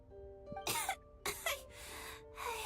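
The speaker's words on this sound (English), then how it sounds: "How long have you had that cough, Tonya?" A character in Genshin Impact gives several harsh, breathy coughs in short bursts over a quiet background with a faint sustained tone, close and fairly loud.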